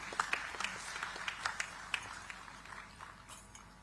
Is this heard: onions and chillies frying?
no